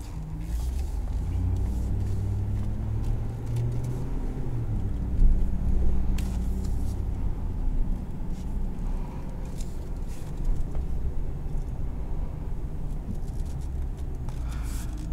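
A 2018 Ram 2500HD SLT pickup with a 6.4L engine, driving unloaded over bumps on a stiff ride, gives a steady close low rumble of road and engine with scattered thumps and creaks and no talk.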